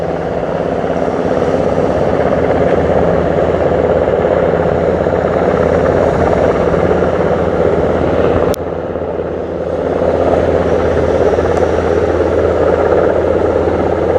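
A helicopter drones steadily throughout, its loud rotor and engine noise continuous and close, with no voices.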